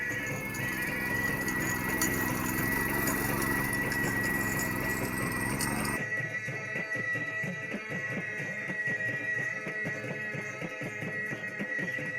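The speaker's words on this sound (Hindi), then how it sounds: "मिनी ट्रैक्टर की जुताई।" A small tractor engine drones steadily throughout with a mechanical rattle while ploughing a hillside field, its tone abruptly thinning partway through as it keeps running.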